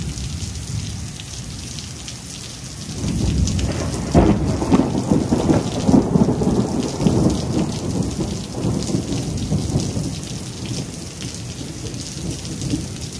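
Heavy rain pours steadily while thunder rolls in, a deep low rumble swelling midway and lingering under the constant hiss of rainfall, with no voices.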